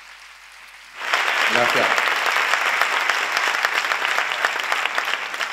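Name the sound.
audience applause at a conference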